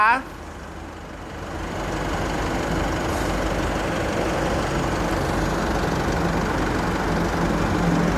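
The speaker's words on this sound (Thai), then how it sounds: "ฟังเสียงเครื่องด้วยนะจ๊ะ" An Isuzu Cab4 Highlander pickup with a 3000cc engine runs steadily close by, a continuous low rumble holding even throughout after a brief louder burst at the very start, with no talking.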